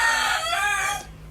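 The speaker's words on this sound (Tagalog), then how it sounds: "ang mga manok nagtuktukaok" A rooster crows loud and close in a rural Filipino setting, one long drawn-out cock-a-doodle-doo that cuts off abruptly.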